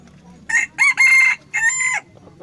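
A rooster crows up close, loud and clear, in three quick bursts of a drawn-out crow over a quiet farmyard background.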